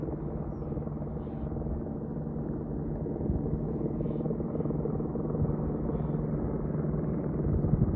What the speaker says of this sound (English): Oh, it's another helicopter.